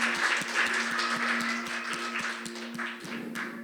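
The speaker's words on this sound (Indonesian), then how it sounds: "Mari kita berikan tepuk tangan." A church congregation at a Sunday service in Perth applauds, a steady run of rhythmic clapping under a sustained musical hum, moderately loud throughout.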